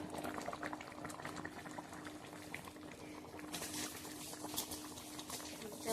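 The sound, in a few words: tilapia fish curry with mukhi kochu (taro) boiling in a pot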